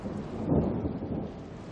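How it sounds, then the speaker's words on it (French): Heavy rain and a low rolling rumble of thunder in the Andes mountains, a dense, loud, continuous wash of sound swelling slightly midway, with no voices. "Voilà des jours qu'il pleut sans discontinuer dans la cordillère des Andes."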